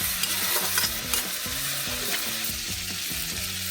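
Ridge gourd being stir-fried in a hot pan with lentils, a steady close sizzle with scraping stirring strokes repeating throughout, no voices.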